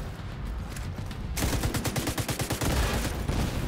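Rapid bursts of automatic gunfire in The Division 2, loud and close, starting abruptly after a second of quieter game ambience and continuing as dense repeated volleys.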